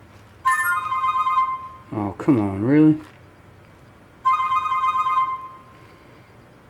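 An indoor telephone rings twice, each a long electronic trill. A person speaks briefly in the gap between the rings.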